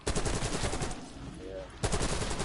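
Rapid automatic gunfire rattles in a zombie match video game, dense bursts filling most of the clip with a brief lull near the middle, loud and close.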